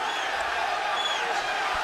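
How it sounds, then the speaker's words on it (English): Boxing arena crowd at the Home Depot Center during the Alfredo Angulo vs Erislandy Lara fight, a steady dense roar of fans chanting and cheering without pause. "the chants of Pero fill the skies here over the Home Depot Center"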